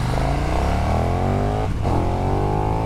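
A KTM Super Duke EVO naked motorcycle engine runs loud and close with the throttle feathered, holding a steady, slightly rising drone. There is a brief dip in the middle before the revs pick up again.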